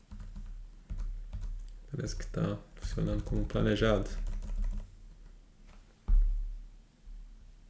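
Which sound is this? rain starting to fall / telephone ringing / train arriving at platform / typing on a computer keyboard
typing on a computer keyboard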